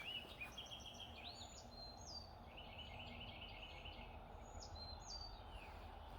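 Several birds chirp and trill in the distance over a constant low outdoor hum, with calls scattered across the whole stretch.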